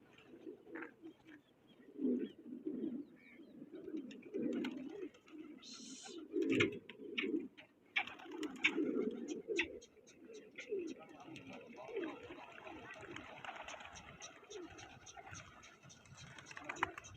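Pigeons coo in low, soft, repeated throaty phrases at a pigeon flying competition outdoors, heard fairly close but quiet, with someone talking and scattered clicks and tapping throughout.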